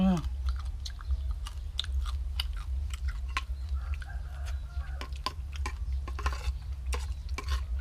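Chewing crispy fried fish served with homemade fish-sauce chili dip, close crunchy bites and clicks repeating irregularly over a quiet low background hum.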